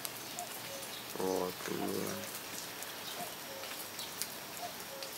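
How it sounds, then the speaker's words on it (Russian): Steady rain patters throughout at a moderate level during a late-May thunderstorm downpour as the rain ends, with someone speaking briefly in Russian near the start and a few faint bird chirps in the background. "дождь заканчивается"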